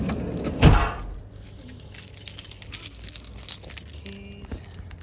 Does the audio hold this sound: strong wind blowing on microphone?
no